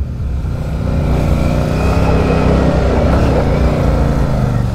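Royal Enfield Super Meteor 650 motorcycle engine pushing through a river crossing on a rough off-road mountain route in Ladakh, a steady loud throbbing drone held close and continuous throughout, with no talk.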